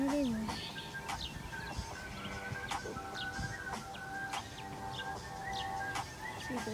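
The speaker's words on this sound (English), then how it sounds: "See the bird here?" Small birds chirp outdoors, with short, scattered tweets repeating every half second or so at moderate distance over a noisy background. Faint voices and movement sounds are mixed in.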